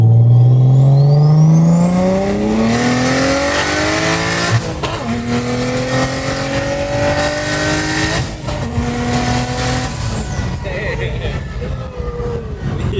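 A single-turbo BMW 335i N54 engine revs hard and climbs through the gears, roaring loudly up close with rising pitch between shifts, and voices are faintly mixed in.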